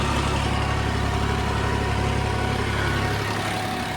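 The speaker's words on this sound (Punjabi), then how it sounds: "ਟਰੈਕਟਰ ਲੋਡ ਨਹੀਂ ਮੰਨ ਰਿਹਾ ਆਰਾਮ ਨਾਲ ਚੱਲ ਰਿਹਾ 1500 ਚੱਕਰ ਤੇ" A tractor engine runs at about 1500 rpm while pulling a rotavator through soil, producing a constant heavy drone, loud and close, with no break.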